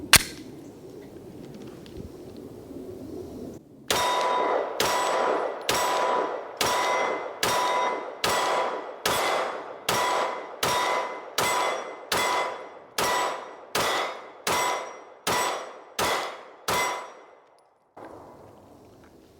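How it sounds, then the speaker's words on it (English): A Glock 45 pistol fitted with a Ramjet fires at steel targets from about 13 yards: roughly eighteen sharp shots in a steady, evenly spaced string, each followed by a bright metallic ring from the struck steel, with quiet before and after. "I'm going to start with the Ramjet, the Glock 45 Co."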